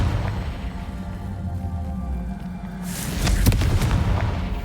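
The Confringo blasting spell goes off in Hogwarts Legacy, a sudden burst near the end that cracks loudly over a low, rumbling game background.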